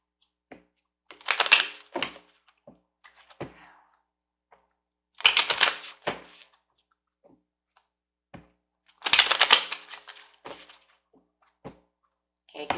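Angel romance oracle cards are shuffled in bursts, with three loud clusters of riffling and slapping separated by quiet gaps and scattered taps and thuds, close by with no talk.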